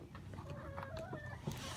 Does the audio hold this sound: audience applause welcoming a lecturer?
no